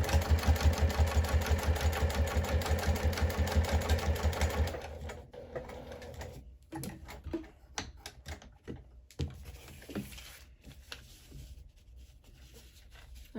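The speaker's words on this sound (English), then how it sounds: "I am just going to go ahead and stitch around the entire pocket here" A sewing machine stitches around a zipper pocket in a bag lining, a steady fast whirring run for several seconds, then stop-and-start bursts of stitching as the fabric is repositioned, close and clear with no talk.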